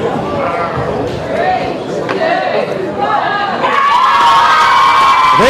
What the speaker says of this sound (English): The crowd will count us down